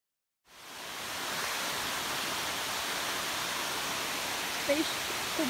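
A waterfall at Nera Gorges near Beusnita roars as a steady, broad rush of water that fades in and then holds, with faint voices briefly near the end.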